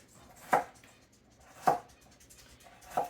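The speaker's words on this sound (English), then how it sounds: "So then I have the carrot sticks from the other night that nobody ate, so we're going to cut them up." Leftover cooked carrot sticks being cut on a board for pork fried rice, three separate sharp knife chops spaced about a second apart, close and fairly quiet with a hushed room in between.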